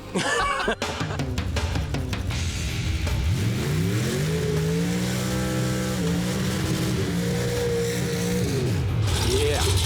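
Engine of a 1988 Ford Mustang revving, the pitch climbing, holding high and then dropping back, loud and close, with mechanical clatter at the start and someone talking over it.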